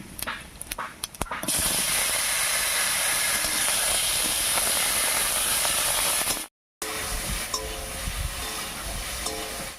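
Chopped tomatoes hit hot mustard oil tempered with two whole dried red chillies and panch phoron, bursting into a loud, sustained sizzle. After a brief dropout the sizzle continues, with faint stirring clatter and no voices.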